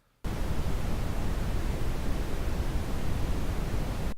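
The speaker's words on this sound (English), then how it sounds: "and then we can also listen to the brown noise." Synthesized brown noise for electronic music sound design, a dark, rumbling, low-heavy rush that starts abruptly and holds steady alone, fading at the end.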